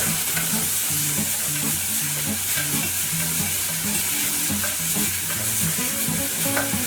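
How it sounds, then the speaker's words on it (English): Tomatoes and tomato paste are stirred in a sizzling pan, with a steady, close frying hiss and soft scraping running the whole time and no talking. "I'm going to stir."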